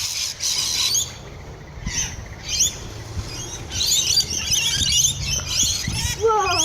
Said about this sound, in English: They're starting to fly away because of Max